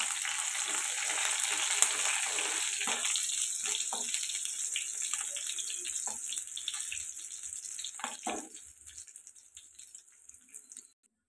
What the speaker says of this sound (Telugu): అలాగే కరివేపాకు, ఇవి ఇప్పుడు ఫ్రై చేసుకోవాలి